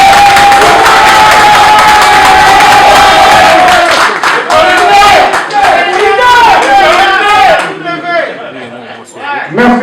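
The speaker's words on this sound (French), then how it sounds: "merci encore un seul applaudissement pour cette brillante présentation" An audience at a press conference in Paris claps and cheers after a presentation, a loud burst of applause and crowd noise mixed with voices that fades toward the end.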